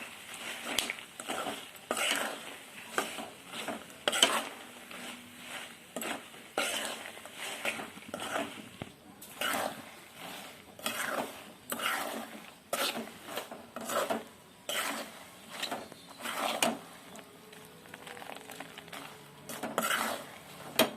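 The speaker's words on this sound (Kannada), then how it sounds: "ಇದನ್ನು ಚೆನ್ನಾಗಿ ಮಿಕ್ಸ್ ಆಗ್ಬೇಕು ರೀ ಮಸಾಲೆ ಜೊತೆ" Chilli powder stirred into a masala mixture in a pan, a repeated scraping and clinking of a spoon against metal in an uneven rhythm, close and moderately quiet.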